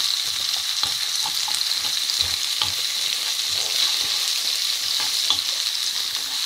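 Chopped onion and chilli fry over low to medium heat in a pan, giving a constant close hiss with light stirring scrapes and small ticks scattered across the sizzle.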